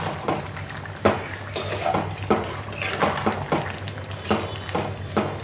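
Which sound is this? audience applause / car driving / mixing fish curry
mixing fish curry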